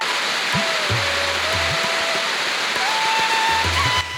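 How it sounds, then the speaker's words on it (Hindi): A roaring river in the Valley of Flowers, Uttarakhand, rushes as a loud, steady broadband wash of water, constant throughout with faint tonal traces and no talk. "ये देखिए नदी की गरजती हुई ध्वनि, आवाज़।"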